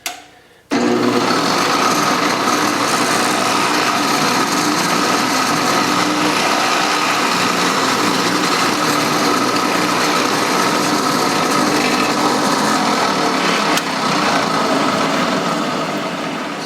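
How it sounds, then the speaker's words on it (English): A drill runs continuously and loudly for over fifteen seconds, boring a 5/16-inch hole through wood for a guitar pickup, with a steady grinding whine and no pauses. "now we have to drill a through hole for the pickup to go through here"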